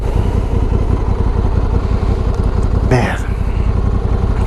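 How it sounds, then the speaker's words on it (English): A motorcycle engine drones steadily up close, and its throaty, rumbling note pulls hard as it accelerates. A short whoosh cuts through partway, and the engine stays loud throughout. "Let that motorcycle pull me out of the hole first, eat all its torque up, and then I can gingerly accelerate it to second gear."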